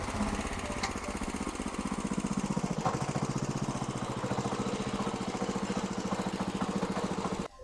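A power weeder with a rotary tiller attachment runs steadily nearby, its small engine giving a loud, continuous, rapidly pulsing chug with no break and no speech.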